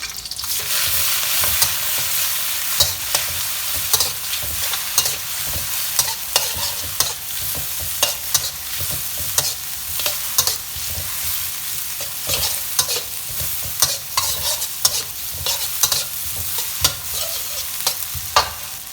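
Shrimp tomalley, red chili and shrimp heads stir-fried with garlic in a pan: a steady close sizzle broken by frequent quick spatula scrapes and knocks throughout, with no talking.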